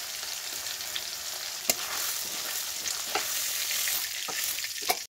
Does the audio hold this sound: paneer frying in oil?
yes